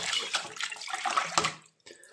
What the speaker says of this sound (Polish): Niech ta brudna woda w końcu stąd zleci.